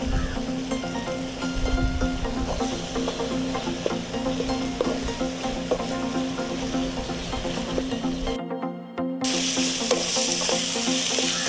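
Ginger garlic paste sautéing in a pan during a village-style chicken gravy cook, a steady close sizzle and frying crackle with occasional stirring scrapes, continuous and alone.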